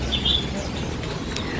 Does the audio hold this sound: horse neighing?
no